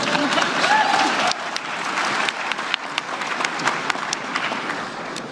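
Audience applause for Greta Thunberg at a climate event, a sustained wash of many hands clapping that stays fairly loud, with a brief drop partway through and scattered louder claps, plus faint background voices.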